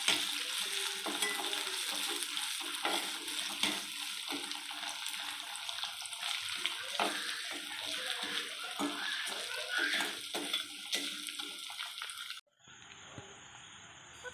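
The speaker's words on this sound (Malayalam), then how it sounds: "നമുക്ക് വെളുത്തുള്ളി, പച്ചമുളക് ഇതൊക്കെ ഇടാം. നല്ല വഴറ്റി കൊടുക്കാം." Garlic and green chilies sautéing in a pan, a loud, dense sizzle with stirring scrapes continuing for about twelve seconds before cutting off abruptly into near quiet.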